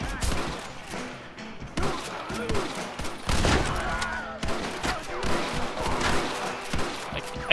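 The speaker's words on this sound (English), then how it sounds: "Someone's shooting at me from inside those windows." Gunfire in Red Dead Redemption, with repeated shots from a shooter firing out of building windows. Dense volleys of cracks and bursts sound at mid distance, with a few louder single shots.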